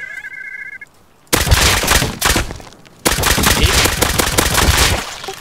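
Rapid nail gun fire in a video game, two long bursts of dense, loud clattering shots separated by a short pause, with a brief electronic beep at the start.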